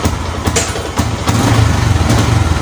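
A kick-started motorcycle engine catches and runs unevenly, misfiring, with irregular sputters and pops near at hand before settling into a rougher steady idle.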